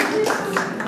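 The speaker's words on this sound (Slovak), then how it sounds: "Zatleskáme obidvom." Audience clapping at a Slovak Fašiangy carnival celebration, a brief burst of dense applause from a crowd, fairly close and steady throughout.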